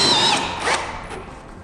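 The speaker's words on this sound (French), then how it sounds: "Je viens visser donc sur la première ronde." A power screwdriver drives a screw into steel roof sheeting on a flat roof. The motor gives a short, close whine that falls in pitch and winds down within a second or two.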